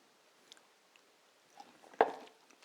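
Crunchy coleslaw dressed with Kewpie mayonnaise is chewed close up, a few soft bites building to one sharp crisp crunch near the end, quiet and with no talking.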